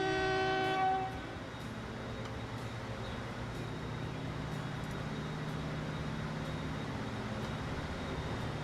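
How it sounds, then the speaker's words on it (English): A steam locomotive in the Transport Fever game hauls a train full of logs: a loud horn blast opens, then a steady rumble of rolling wagons carries on alone. "There's a train full of logs."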